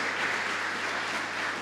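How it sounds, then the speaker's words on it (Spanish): A church congregation applauds in a steady, dense wash of clapping during a worship service, even and unbroken throughout with no talk over it. "Dale un fuerte aplauso al Señor."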